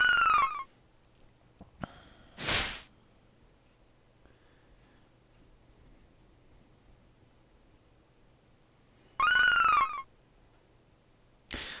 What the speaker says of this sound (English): I love that dragon noise.